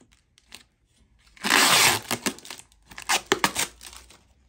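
Cardboard and plastic packing layers around a Fezz Audio tube amplifier are torn and crinkled close up. A loud ripping burst is followed by several shorter rustles and crumples, with a few soft taps between them and no speech.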